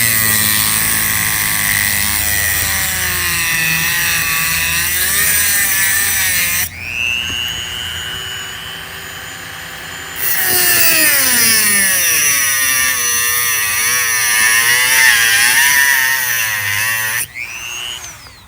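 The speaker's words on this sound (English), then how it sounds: "anything to kind of cut across right here and create a slot so it can be removed with a screwdriver" A Dremel rotary tool cuts a screwdriver slot across a screw head on a sealed Chinese carburetor, whining loudly with pitch that sags and recovers under load, pausing for a few seconds in between bursts.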